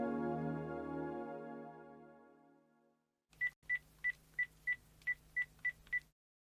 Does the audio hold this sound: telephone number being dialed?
yes